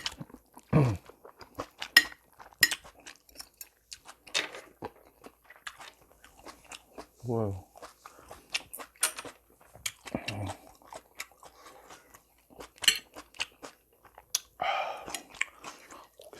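Beef jjapaguri noodles, an instant noodle dish, are eaten up close, with scattered wet chewing, slurps and occasional utensil clicks over near silence.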